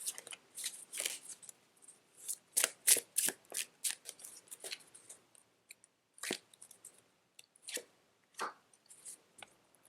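Tarot cards shuffled and drawn up close, crisp bursts of riffling and slapping card noise in quick clusters separated by short quiet gaps.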